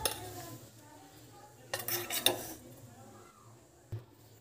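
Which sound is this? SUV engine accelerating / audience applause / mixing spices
mixing spices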